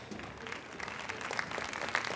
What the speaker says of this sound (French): Moi, je vous trouve bien timide dans vos applaudissements